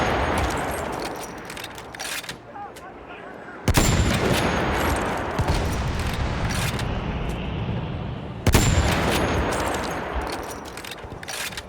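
Mortar blasts and gunfire in the Battlefield 1 video game, loud and continuous, with two sharp heavy impacts cutting through a steady roar of battle.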